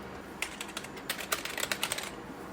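Fingers clatter across a computer keyboard on an old Pentium III machine, a quick, uneven burst of light key clicks at moderate distance with no talking.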